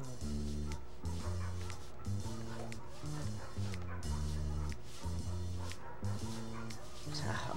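Dogs in the Family Guy video game bark and yip repeatedly over a rhythmic musical backing, with short whimpering sounds mixed in, loud and close.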